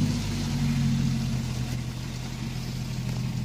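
The engine of a Daihatsu Gran Max idles steadily at close range just after an alternator replacement, a constant low hum with no other sounds.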